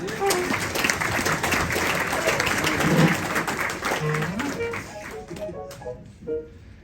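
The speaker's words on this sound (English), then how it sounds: "how about a round of applause for those great musicians?" A jazz concert audience applauds the musicians at a classic jazz party, a dense sustained patter of clapping mixed with a few tonal sounds that thins and fades near the end.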